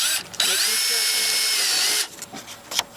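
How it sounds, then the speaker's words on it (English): A power drill drives decking screws down through the upper pallet into the lower one on a pallet staircase or deck build, one steady whining run of nearly two seconds, close and loud, with brief clatter before and after. "this is the upper pallet, screwing it down"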